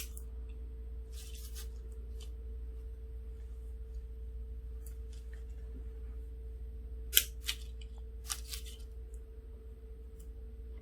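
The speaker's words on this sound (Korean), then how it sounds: "편백을 이렇게 짧게 몇 개를 잘라 놓으시고요" Scissors snip short pieces of hinoki cypress branches for a flower arrangement, a handful of sharp, close cutting clicks spaced irregularly over a low steady hum, with no talk.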